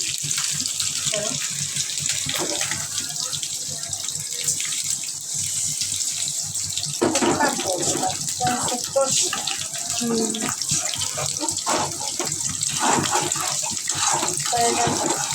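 Water pours steadily into a cooking pan of turmeric and chili powder for tilapia curry, in a continuous splashing stream, with occasional clinks and spatters under it.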